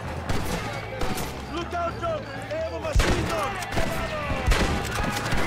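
Heavy machine gun fire in Red Dead Redemption: rapid bursts of gunfire over a dense battle din, with shouting voices mixed in and louder volleys near the middle and end.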